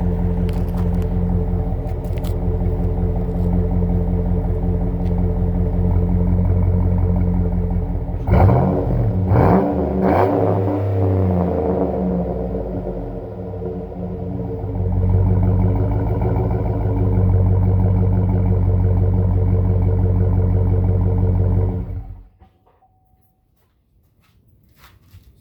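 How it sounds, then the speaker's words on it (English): A modified, non-stock car engine idles with a deep rumble, then blips through several sharp revs before settling back to a steady loud idle and cutting off near the end. "Go ahead and give you guys a few revs."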